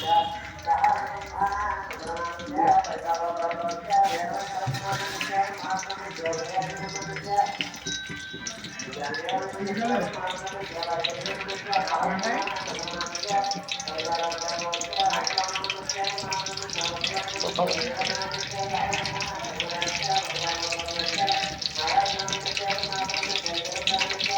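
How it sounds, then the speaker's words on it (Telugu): Green chillies fry in hot oil for a dried-fish curry, giving a steady, close sizzle that runs the whole time under a droning, tonal background and a voice. "ఇప్పుడు ఈ పచ్చిమిరపకాయలు అనేది ఫ్రై అవుతున్నాయి కదండి"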